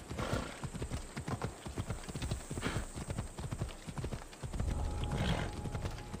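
Horse hooves clip-clopping in the video game Assassin's Creed Odyssey, a steady, brisk rhythm of hoof strikes on hard ground, continuous and moderately close, with a brief whinny-like tone and no talk.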